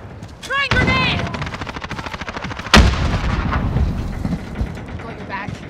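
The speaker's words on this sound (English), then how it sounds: "Throwing grenade!" A grenade bursts in a single loud, sharp blast during a Call of Duty Modern Warfare match, surrounded by rapid, sustained automatic gunfire that keeps rattling before and after the explosion.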